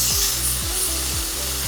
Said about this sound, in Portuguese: Então eu vou dar uma refoguinha aqui na manteiga.